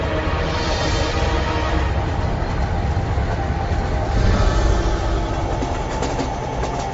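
A runaway freight train rolls heavily along the track toward a curve, a steady loud rumble with rattling wagons and faint rhythmic clatter throughout, with no voices.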